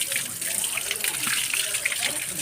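Tap water runs in a steady, full gush as someone washes their hands and feet at a temple. The rushing noise continues without a break for the whole stretch.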